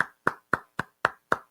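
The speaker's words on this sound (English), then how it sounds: "how about a round of applause for your St. Louis Cardinals" Six sharp, evenly spaced single hand claps ring out close and clear, each with a short decay, alone against silence.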